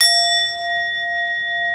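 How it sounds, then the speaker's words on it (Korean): A bell rings once at the start and its clear, steady metallic tone hangs and slowly fades across the whole stretch, alone with no voices. "이게 종소리가 아름다워서 진짜 이전에 경험해 보지 못한 소리라서 아름다운 게 아니고"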